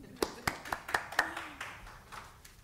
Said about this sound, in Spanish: Por favor, un fuerte aplauso para Ileana Ballester y Adda Cordero.